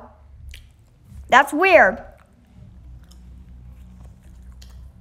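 A squishy, watery transformation effect in the Stealing the Diamond video game: a short wobbling, gurgling burst midway through, with a person speaking briefly over a quiet background.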